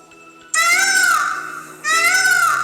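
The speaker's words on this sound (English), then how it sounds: "peacock." A peacock gives two loud, close, wailing calls, each a long high-pitched nasal cry with a slight downward bend, separated by a brief gap.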